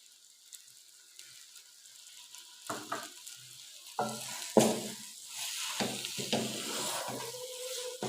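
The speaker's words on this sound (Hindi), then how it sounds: "और थोड़ी देर भूनेंगे और चूल्हा बंद कर देंगे" Chicken filling seasoned with soy sauce frying in a pan, a steady sizzle with intermittent scraping stir strokes that grow louder and busier toward the end, close by with no talk.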